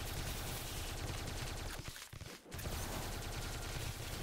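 Rapid Tesla gun fire in the game Tesla vs Lovecraft, a dense continuous stream of shots that briefly drops out midway before resuming at steady loudness.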